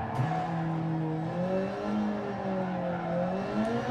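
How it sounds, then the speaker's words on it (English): Damaged car engine in a driving video game, a steady rough drone with wavering pitch that rises and falls, continuous and fairly loud throughout, with no talking. "my car does not sound good"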